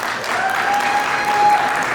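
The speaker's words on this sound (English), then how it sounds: "So one more time, can we give them a round of applause?" Steady applause from a conference audience at Tech Connect Africa 2022 in Lagos, a dense, even wash of clapping filling the hall, with a faint tone running underneath.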